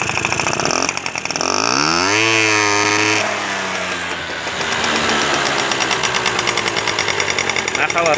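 A carbureted engine with a faulty carburetor that floods at full throttle revs up from a rough idle, its pitch climbing quickly, then settling into a loud, steady mid-rpm drone with a pulsing, uneven edge.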